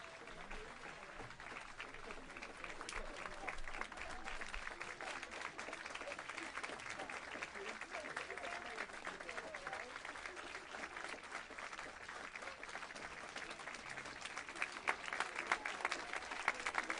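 Applause fills a hurricane-response briefing with the vice president, a faint, steady patter of many hands clapping that swells slightly toward the end.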